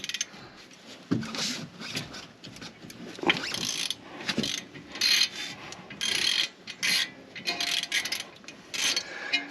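A wrench loosens 14 mm lug nuts on a van wheel, giving a few sharp clanks and ratcheting, grinding scrapes in uneven bursts, close by.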